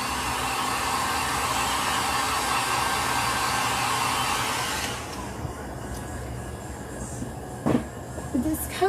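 A hair dryer drying acrylic paint on a beach door hanger runs as a loud, steady blowing whoosh, then shuts off abruptly partway through, leaving quiet room sound and a few soft knocks.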